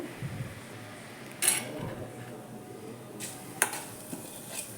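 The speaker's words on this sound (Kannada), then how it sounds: "ನೋಡಿ ಈಗ ತುಪ್ಪ ಕಾದಿದೆ ಅದಕ್ಕೆ ನಾನು ಅಡಿಕೆ ಪುಡಿ ಹಾಕಿ ಚೆನ್ನಾಗಿ ಉರಿತಾ ಇದ್ದೀನಿ" Areca nut powder roasts in hot ghee in a pan, stirred by a metal utensil: faint, sparse scrapes and a few sharp clinks over a low, quiet sizzle.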